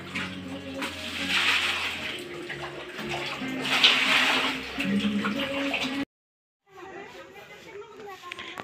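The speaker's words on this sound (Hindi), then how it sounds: "तो अब मैं पानी भर के अब सेंटेक्स में डालूंगी" Water pours and splashes steadily into a Sintex water tank, loud and close, then cuts off abruptly before a quieter stretch of splashing resumes.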